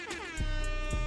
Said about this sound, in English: Air horns for you.